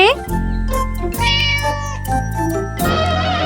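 A cartoon cat meowing in a children's story, several drawn-out, high meows in close succession, loud and near, with other voices around them.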